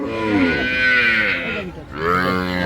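A cow moos loudly and close at a busy rural cattle market, one long low call followed by a second that rises again, with no talk over it.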